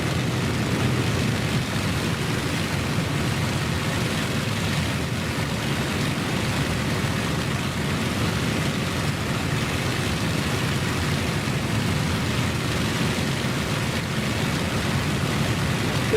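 Fighter planes flying in formation in the flight-combat video game Warbirds produce a continuous, loud, broadband engine roar that stays steady with no breaks or talking.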